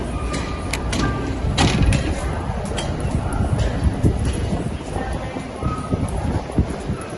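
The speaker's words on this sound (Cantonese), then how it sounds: "呢度係多倫多嘅地鐵，叫做 TTC（Toronto Transportation Commission）。" A Toronto TTC subway train at a station on a cold day fills the space with a steady, loud rumble and rushing noise, with scattered metallic clinks and squeals over several seconds.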